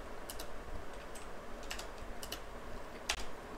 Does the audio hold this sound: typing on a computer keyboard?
yes